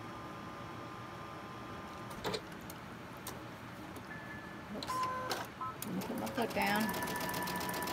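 A sewing machine stitches fabric pieces for a quilted table runner, whirring in short bursts with mechanical hum and clicks, while a person speaks briefly nearby.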